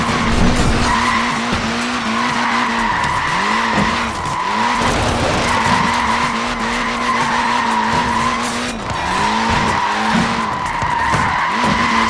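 A Mini in the racing game Forza Horizon 4 skids hard with sustained tire squeal and engine drone, the squeal swelling and easing in repeated slides over about twelve seconds, loud and continuous.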